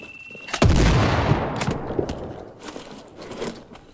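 A grenade explosion in the video game Sniper Ghost Warrior 3 lands as one loud, close boom with a decaying rumble, followed by scattered fainter gunshots.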